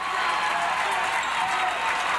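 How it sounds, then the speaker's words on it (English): Basketball crowd at a 1997 girls' high school game cheering and applauding steadily, a dense continuous roar of clapping and voices filling the gym. "And the crowd is really behind the Dragonettes Beatty, right now."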